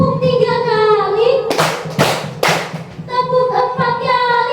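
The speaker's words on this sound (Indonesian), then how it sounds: "tepuk 3 kali" Children in a classroom clap hands together three times, loud sharp slaps in a quick row, framed by a woman's spoken instructions before and after.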